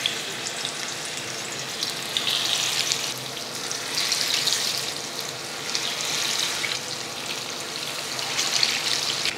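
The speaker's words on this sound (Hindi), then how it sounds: "जब ये तेल अच्छी तरह गर्म हो जाए तो मछली के जो टुकड़े जिनको हमने थोड़ा सा मसाला लगाया है वो इसमें डालें।" Masala-coated rohu fish pieces fry in hot mustard oil, giving a continuous loud sizzle with swelling bursts of crackle and no talk over it.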